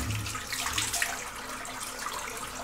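Water runs from a tap during a wet shave with shaving soap, a soft continuous splashing hiss that fades slightly toward the end, with no voices.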